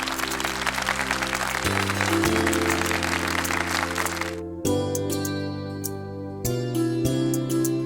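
A stage-show audience claps loudly and steadily to welcome a woman performer, with sustained musical tones beneath the clapping; the applause cuts off partway through and the music carries on alone.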